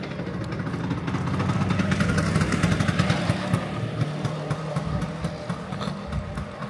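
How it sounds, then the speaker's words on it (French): A scooter engine buzzing nearby at moderate loudness on the way to the beach, its sputtering rhythmic putter rising slightly then steadying as it rolls along. "Je cours derrière le scooter."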